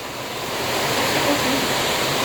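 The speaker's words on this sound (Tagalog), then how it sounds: "Grabe ang ulan." Heavy rain pours down during a typhoon, a steady, dense, close roar of falling water that holds constant throughout with no clear voices above it.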